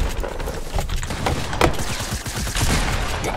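Gunfire in a multiplayer shooter video game, including a heavy sniper, with a dense close fusillade of rapid shots and bursts that runs continuously throughout.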